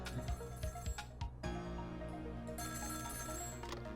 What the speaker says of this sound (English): we can hear this phone call